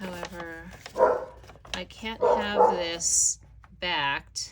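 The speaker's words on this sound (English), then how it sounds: "sorry about the dog" A dog barks several times in short yapping bursts close by, mixed in among a person's speech in an indoor crafting setting, with a few higher yips near the end.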